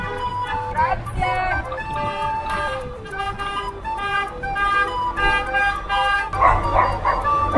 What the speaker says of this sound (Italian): Il cane.